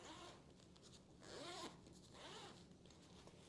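Zipper on the large mesh pocket inside a ProCase EDC tech pouch, drawn in a few quiet, close, rasping strokes with short pauses between them.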